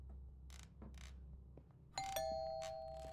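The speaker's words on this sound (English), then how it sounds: "Stop ringing the doorbell!" In the horror video game Fears to Fathom, a doorbell chimes a clear two-tone ding-dong partway through, ringing out and fading against a quiet room with faint low hum and soft movement noises before it.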